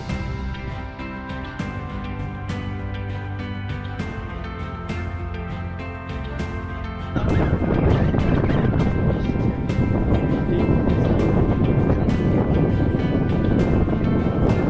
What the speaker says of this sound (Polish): a tu już zaczyna się wiatr